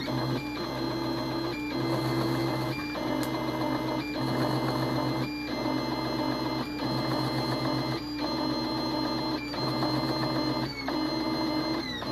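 A BenchBot 3D printer with no endstops hums and whirs steadily up close, its stepper motors producing tonal buzzing that shifts in regular short cycles.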